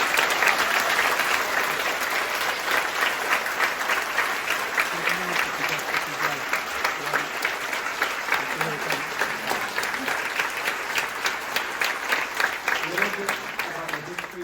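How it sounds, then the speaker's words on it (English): Audience giving a sustained round of applause during a thank-you speech at a festival event, dense, steady clapping from many hands that continues evenly for a long stretch, fairly close and loud, with faint crowd voices underneath. "Please give them all a round of applause."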